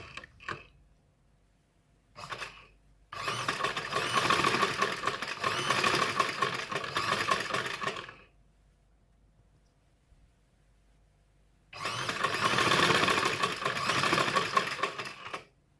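A sewing machine stitches the side seams of a garment in two loud bursts of rapid mechanical whirring, separated by a quiet pause, with a couple of short taps at the start.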